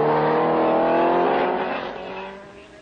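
A 1967 Formula 1 racing car at the Nürburgring Grand Prix roars loud and close in a sustained high engine note, then fades away as it passes.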